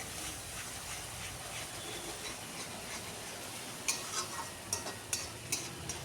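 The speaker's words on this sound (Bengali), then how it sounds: "এবার মশলাটাকে খুব ভালো করে কষিয়ে নিতে হবে।" Spices are sautéed with taro leaves in a pan under a soft, continuous sizzle, and a spatula scrapes and taps several times in the second half, close and fairly quiet.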